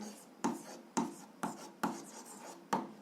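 An algebra answer being written down by hand, six soft, distinct pen strokes tapping and scratching at a steady pace, quiet and close.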